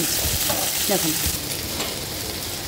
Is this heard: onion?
yes